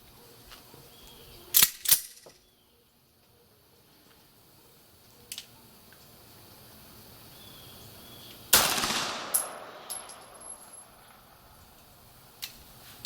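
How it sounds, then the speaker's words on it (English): Beretta 92G Elite Compact pistol fired at a shooting range, a couple of sharp cracks early followed later by one louder shot with a ringing decay, with a few fainter clicks and quiet gaps between. "Okay, let me get ready and I'll start shooting."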